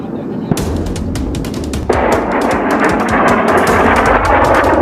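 Apache attack helicopter firing a weapon in the field: a sharp loud blast, then a dense, sustained roar of fire and rotor noise that continues to the end.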